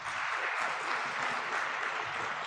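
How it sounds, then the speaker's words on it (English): Applause from a workshop audience seated in a hall, a steady, dense wash of clapping filling the whole moment at moderate distance without any voices. "So huge applause for all of us those who are sitting here"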